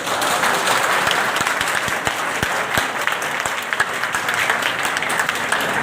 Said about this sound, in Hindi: मैं चाहूंगा जोरदार तालियों से उनको स्वागत करें।